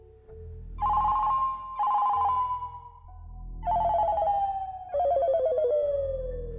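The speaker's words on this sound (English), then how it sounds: "Thank God I picked the most obnoxious ringtone ever." An electronic phone ringtone plays a loud, bright melody of sliding tones in four repeated bursts, close by.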